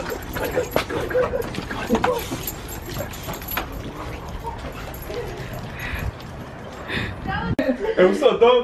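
A pet dog whimpers and gives a few yips and barks close by, mixed under excited overlapping talk from several people at a family reunion at a pageant.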